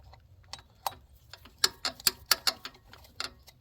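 A ratchet wrench clicks in short uneven bursts while loosening a bolt during a thermostat replacement on a Dodge Dakota, crisp and close with quiet gaps between the clicks.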